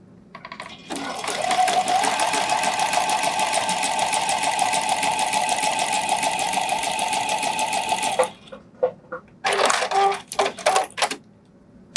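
A sewing machine zigzag-stitching along the scalloped edge of a bralette's lace band runs in a fast, steady loud whir for about seven seconds, then stops and gives a few short bursts.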